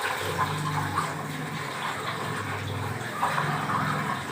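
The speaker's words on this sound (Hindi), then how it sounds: "धो लेती हूँ इनको मैं खुले पानी में ना अच्छी तरह से।" Food is washed under an open tap: steady running water splashes and gurgles without a break, close and fairly loud, with faint handling noises mixed in.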